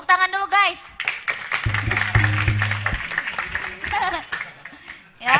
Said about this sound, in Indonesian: Tepuk tangan dulu guys.